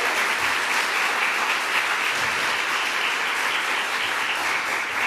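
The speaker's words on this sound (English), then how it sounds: "Let's give her a huge round of applause, Dr. Linda Prine." Audience applause at a New York bill-signing event for abortion-protection legislation, a steady, dense wash of clapping that fills the whole stretch at even loudness with no talk over it.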